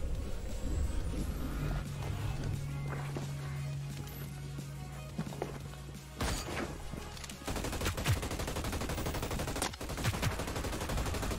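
Rapid bursts of gunfire from a gun in the video game Hyperscape, loud and close, in repeated volleys over a busy game soundscape with a steady low hum and no talking.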